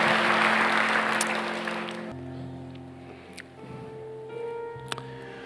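A church congregation claps for several seconds, a dense wash of applause that fades as organ-like sustained tones and a voice take over.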